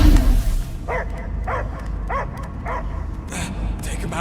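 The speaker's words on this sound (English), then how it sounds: "I hear only barking." A dog barks in a rapid series of about six yaps, moderately close, partly overlapping a low background rumble.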